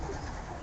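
Racing pigeons in a loft give a brief, soft, low coo, faint and close, with no talking.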